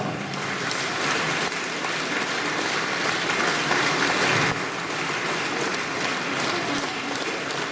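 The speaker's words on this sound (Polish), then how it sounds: "Drodzy Państwo, wielkie brawa!" Steady, loud applause from an audience at a carnival-season Ostatki celebration in Grodowiec, continuous clapping filling the whole span with a brief dip in intensity partway through.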